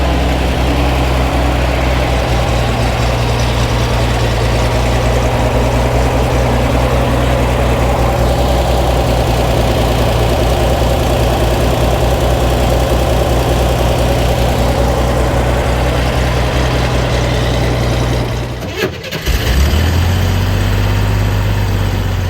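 A rebuilt Chevrolet Corvair engine, back in a car that had been flooded, idles steadily after starting with a loud, even rumble that holds throughout, then shifts briefly near the end before settling again.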